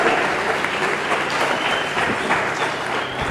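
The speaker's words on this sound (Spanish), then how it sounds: "lo recibimos con un fuerte aplauso al licenciado Sergio Pérez Portilla" An audience at a panel on faith and ideologies bursts into loud, dense applause to welcome a speaker, a continuous crowd clatter that holds steady throughout.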